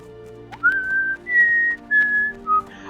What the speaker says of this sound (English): I changed the death sound whistle for my death log to the Hunger Games whistle